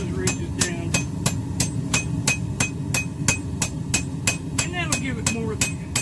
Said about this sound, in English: So just take the 2-pounder, and we're just going to pop those ridges down.